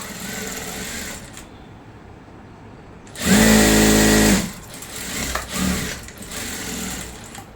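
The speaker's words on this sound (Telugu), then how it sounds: "సేమ్ మనం ఒకవైపు ఎలా అయితే కుట్టుకున్నామో సేమ్ ఇంకొక వైపు కూడా అలానే స్టిచ్ వేయాలి." Sewing machine stitching the side seam of salwar pant fabric, running in one loud continuous burst of about a second and a half, with quieter handling before and after.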